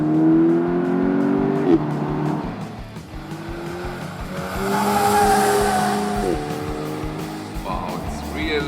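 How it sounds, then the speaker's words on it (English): Audi S3 Cabriolet working hard around a handling course, engine note rising and falling through gear changes with tires squealing in the corners, loud and close, with speech over it. "Now we're going here on the handling course with the Audi S3 Cabriolet."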